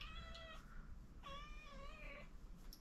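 A cat meows twice, each call clear and fairly close, with a short gap between them, over a faint steady room hum indoors.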